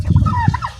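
Turkeys gobble in a short, loud, close burst among local farm poultry, the throaty warbling call rising over low clucking.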